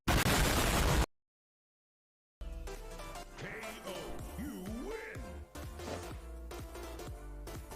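Burst of noise from an explosion in the Power Rangers Legacy Wars video game, loud for about a second, then total silence, followed by game music with whooshes and impact hits.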